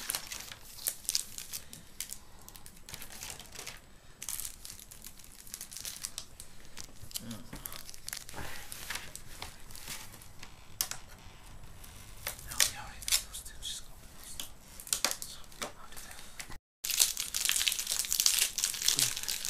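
A Yu-Gi-Oh Legendary Collection 2 card pack being opened, with steady crinkling and tearing of foil wrapping and shuffling cards close up, under ongoing background chatter and a louder burst near the end.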